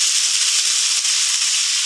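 Eggplant hits a hot pan with sautéed onions for Filipino ginisang talong with egg, producing a loud, steady, close sizzling hiss that holds evenly throughout.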